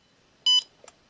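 A single short electronic beep from the keypad of a Bartlett RTC1000 kiln controller as enter is pressed, crisp and close, followed by a couple of faint soft clicks in an otherwise quiet room.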